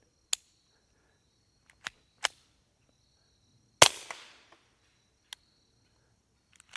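Several .22 rifle shots fired through a Banish 22K V2 suppressor, sharp muted cracks spaced irregularly over a few seconds, one louder shot with a short ringing tail, otherwise quiet surroundings.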